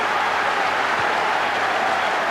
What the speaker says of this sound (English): That draws applause from the home fans.